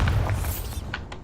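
A Bombarda spell goes off in Hogwarts Legacy, a booming blast with a burst of crackling debris, followed by a few sharper bursts of spell impacts, with no talking over it.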